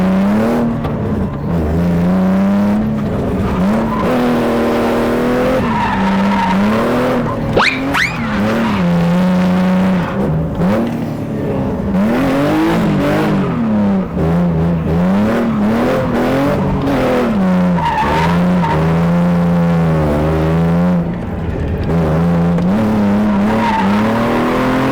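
A BMW E36 drift car slides through a drift course, its engine droning and revving continuously with rising and falling pitch as the tires squeal and scrub, a loud sustained run with no talk.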